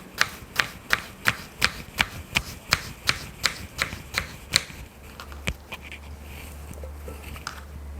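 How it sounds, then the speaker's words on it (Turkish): A knife chops cucumber into bite-sized pieces on a cutting board, giving about fourteen crisp, evenly spaced close cuts over roughly five seconds, then a few scattered knocks over a low hum. "Salatalığı da böyle dişe gelecek şekilde doğruyorum."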